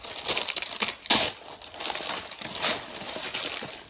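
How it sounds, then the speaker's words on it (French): Close crinkling and rustling with a few sharp peeling bursts as ribbon is pulled and tape stripped off a cardboard beauty subscription box. "vous tirez le petit ruban et vous enlevez le petit scotch"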